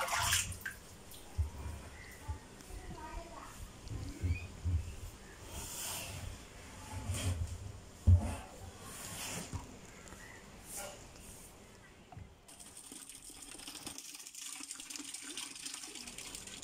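Muddy backwash water from a handmade natural water filter pours and splashes unevenly, with intermittent gushes and drips, a louder splash midway, and a quieter, thinner trickle toward the end.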